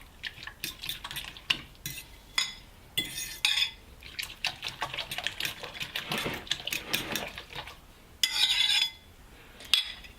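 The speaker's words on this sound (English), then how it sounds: "you're just going to whisk this with a fork" A fork whisks masala omelette eggs in a bowl, giving rapid irregular clinking and scraping strokes with brief pauses, close and fairly loud with no talking.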